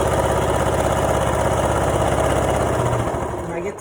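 A sewing machine stitches elastic with a steady, close mechanical whirring buzz that runs evenly, then winds down and stops near the end.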